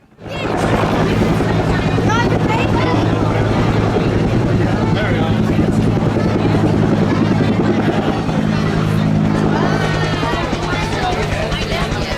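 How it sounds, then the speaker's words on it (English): A Bell UH-1 Huey helicopter taking off at an airport air fair, its rotor drone and turbine whine loud and steady throughout, with a rhythmic blade chop underneath. "we saw the rotor blades of the Bell UH-1 Huey in the distance, as it took off and unfortunately headed away from us"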